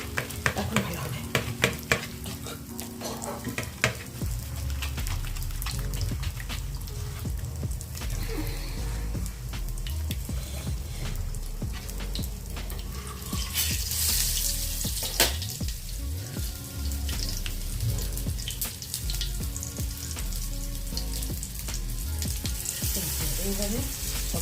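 Seemer pur bhaja, bean-stuffed fritters in gram-flour batter, frying in a pan with a steady close sizzle and frequent stirring and scraping over about twenty-five seconds, with a louder hiss partway through.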